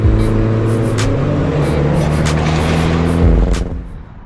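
A Mini JCW Countryman is being driven, giving a loud, steady engine drone with layered hum and occasional light knocks. The sound eases off and fades near the end.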